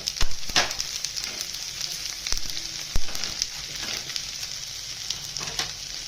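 Green chili thecha hits hot oil and sizzles steadily up close, with scattered crackles and sharp pops over a constant frying hiss.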